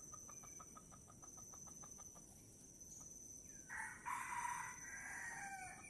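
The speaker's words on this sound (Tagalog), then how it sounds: "May isang naninilaok dyan sa taas." A rooster crows from a distance on a hillside, a drawn-out call rising then fading, following a run of evenly spaced clucking notes over steady outdoor background noise.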